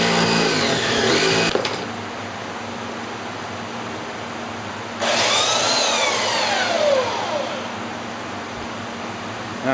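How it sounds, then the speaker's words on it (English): A Ridgid saber saw cuts through wood with a loud, steady buzzing drone and harsh rasping, running continuously, close up, with a change in pitch partway through. "Rigid has the answer. We call it the saber saw."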